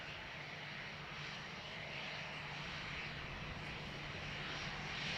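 An airplane approaches to land on runway 28 left at Dublin Airport, heard as a steady, distant, broad engine roar that swells slightly toward the end.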